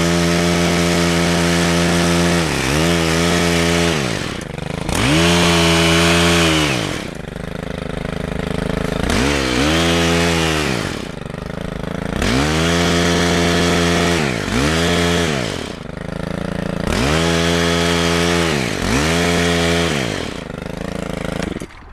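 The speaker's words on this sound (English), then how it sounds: "I have one that's got a hedge trimmer attached, and this makes it really easy" A handheld power tool with a hedge trimmer attachment cuts back ornamental grasses in late winter, its loud motor whining in repeated bursts that rise and fall as the blades bite, with short pauses between passes.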